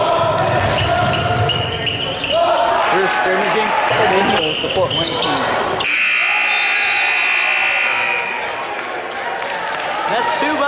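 A loud buzzer blares at a basketball game over a noisy gym with bouncing balls and excited voices, then the crowd noise fades.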